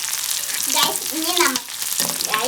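Shallots and green chillies hit hot oil with mustard seeds, crackling and sizzling loudly up close while a utensil scrapes and stirs, with faint tonal clatter mixed in.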